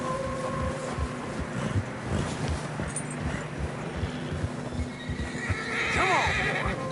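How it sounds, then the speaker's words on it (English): Horses whinny loudly while their hooves thud and struggle through fresh snow, heard close amid a low hum of wind and movement. "Horses struggling. Yeah, a lot of fresh snow here."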